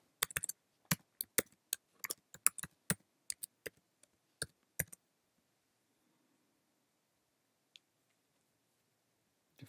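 Someone types a password on a computer keyboard in a quiet room, a quick run of crisp, close clicks for a few seconds, then silence with one stray tap.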